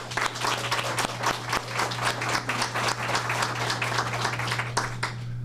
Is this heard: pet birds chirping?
no